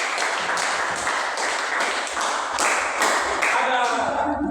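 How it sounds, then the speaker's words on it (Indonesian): Students in a classroom clap together in a rhythmic round of applause, loud and close, with steady beats. A voice starts to speak near the end. "Oke, tepuk tangan dulu."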